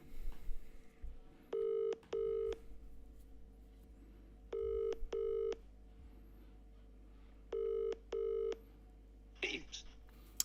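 A telephone rings in three pairs of electronic double rings, evenly spaced, with a brief rustle at the end.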